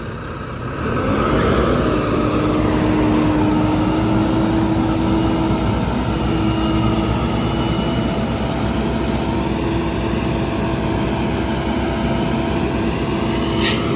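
Volvo dump truck engine running, a steady heavy diesel drone that kicks up after a second and holds near and loud, with a brief air-brake hiss and no talk.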